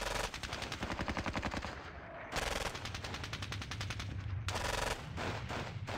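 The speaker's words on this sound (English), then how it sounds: "Let's fire into that cluster." Gunfire plays in the turn-based war game Squad Battles Red Victory, set at Ponyri: dense bursts of rapid machine-gun fire in several long volleys with short gaps, loud and without talk.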